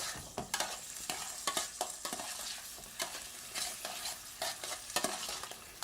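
Peas stirred around in a frying pan, with busy scraping and clattering of a utensil against the pan in rapid irregular strokes over a light sizzle, close and moderately quiet, no voices.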